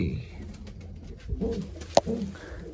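Pigeons cooing softly nearby in low, rolling calls, with a sharp knock partway through and some background murmur.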